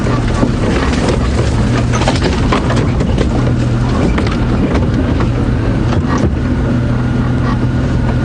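A safari vehicle grinds off-road through bush willow and acacia scrub at Djuma Game Reserve, its engine roar and wind rumble loud and continuous, with branches snapping and scraping against the body now and then.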